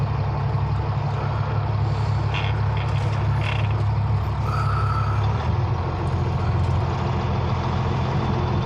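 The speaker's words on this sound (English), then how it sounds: "I'll let this one truck come across first" A heavy truck rumbles loud and close in a steady low drone around an oversize tarped load of data center fan blades, the engine note shifting partway through.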